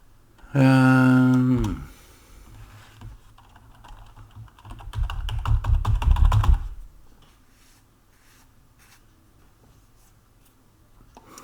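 Rapid clicking of computer keys in a steady burst, close and moderately loud, preceded by a brief loud tonal sound and followed by quieter scattered taps.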